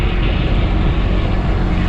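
A steady, loud Kawasaki Ultra jet ski engine drone idling close by, with constant broadband rumble, continuous throughout.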